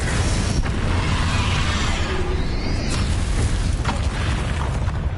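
A Bombarda spell explodes in Hogwarts Legacy, a dense booming burst of noise that stays loud and rumbling for several seconds, with no voices.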